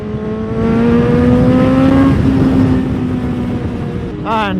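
BMW M1000XR motorcycle engine pulling hard on a road ride, a loud steady drone that climbs smoothly in pitch, ending with a quick rising rev burst.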